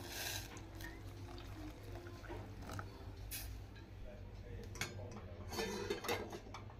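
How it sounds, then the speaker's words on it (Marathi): Jaggery is set to soak in hot water in a home kitchen, with clinks of a utensil against a pot and faint watery stirring and splashes, a few sharper metallic taps rising near the end. "आपण हा गूळ गरम पाण्यात भिजू घालूया"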